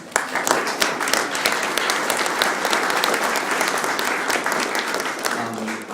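An audience applauds at an Ironman Melbourne race announcement, producing full, sustained clapping that holds steady and then begins to taper toward the end, with a faint voice coming in at the close.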